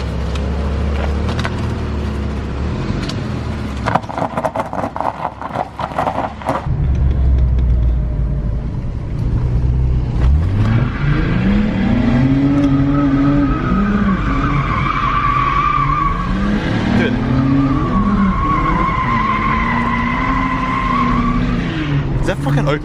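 A Ford AU Falcon with a welded diff skids on a test drive, tyres squealing in long wavering howls over a loud, rumbling engine, with a few rapid bursts early on and people talking now and then.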